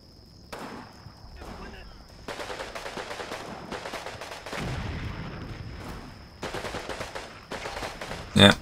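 Artillery and small-arms fire in the World War II strategy game Combat Mission: Red Thunder rumble in dense, sustained barrages with rolling booms and crackling bursts, fairly loud and continuous, with a steady tone underneath and a voice briefly present.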